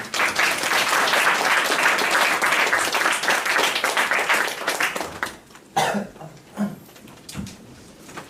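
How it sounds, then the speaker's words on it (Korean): A church congregation applauds loudly and steadily to welcome a visiting pastor to a sermon; the clapping fades after about five seconds into scattered coughs and throat clearing in the hall. "박수로 목사님 모시겠습니다."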